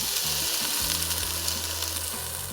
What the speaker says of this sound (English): I'm gonna go ahead with some white wine, just deglaze the pan and cool down the pan a little bit